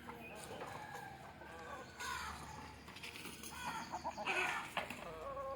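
Native free-range chickens cluck and call across a noisy yard at morning coop opening, several birds overlapping at moderate distance, with a brief louder squawk near the end.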